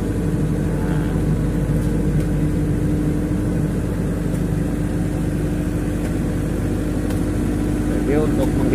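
A Denyo 25ES diesel generator of 25,000 watts runs with a steady, loud low-pitched rumble close by while people talk over it.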